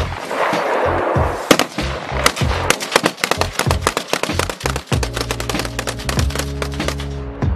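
Rapid bursts of loud staged gunfire and prop explosions, dense and irregular, with a lower rumbling layer joining toward the end.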